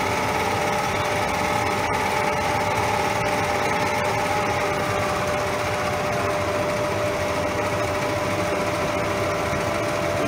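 Schaublin SV52 high-speed milling head running at its second speed, a steady, moderately loud mechanical whir with a constant high whine and no talking.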